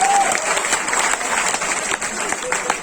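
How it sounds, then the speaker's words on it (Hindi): An audience at a Hindi comedy poetry gathering claps steadily, a loud, busy patter of many hands with a voice faintly heard beneath the applause. "जोर से बजाओ तालियां ऐसे।"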